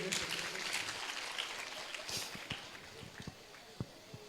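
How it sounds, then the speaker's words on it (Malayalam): An audience at a motivational talk applauds. The clapping is fairly quiet and soft, and it thins out into a few scattered, separate claps toward the end. "ഒരു കയ്യടി കൊടുക്കും മൂപ്പർക്ക്."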